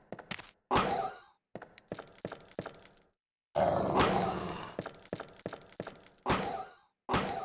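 A zombie dog in Resident Evil 2 snarls and growls in a string of short, rough bursts with brief silences between them, loud and close, mixed with thumping impacts and sharp game effects.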